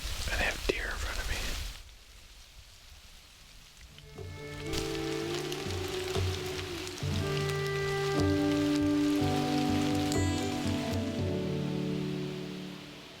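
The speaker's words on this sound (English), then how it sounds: "Now it's raining." Rain pours down steadily during a Montana hunt, a dense hiss heard for the first couple of seconds before music with sustained tones takes over and runs to the end.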